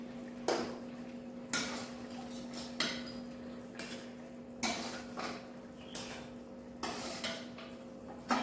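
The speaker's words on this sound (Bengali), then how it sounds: "এবার মাছগুলো দিয়ে দেবো।" Pieces of rohu fish go one at a time into a simmering pot of curry with potatoes, each drop making a soft clunk roughly once a second over a steady low bubbling hum.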